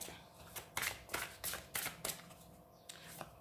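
Tarot cards are shuffled by hand in a quiet room, a quick series of crisp riffling bursts and soft slaps, close and faint.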